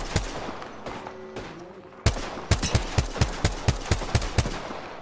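Automatic weapon fire in an Apex Legends battle royale match: a loud, sharp run of evenly spaced shots starts partway through and keeps a steady rapid rhythm after a quieter opening.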